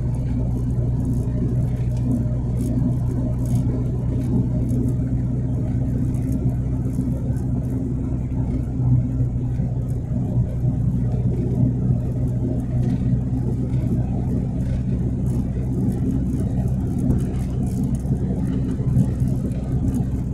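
Road traffic passing at dawn in Maceió, a continuous low rumble of cars and engines rolling by at moderate distance, steady and unbroken with no talk.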